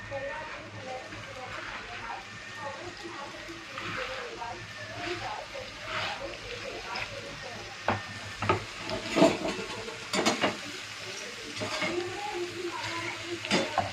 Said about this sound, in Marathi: आता आपण तडका देऊ।